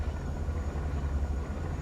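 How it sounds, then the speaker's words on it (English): A large aircraft approaching in the video game Sand Land, heard as a steady, heavy low rumbling drone that holds constant and fairly loud throughout, with no voices. "there's a weird plane headed our way. A big one."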